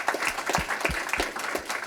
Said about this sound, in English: Please join me one more time in a round of applause for our guest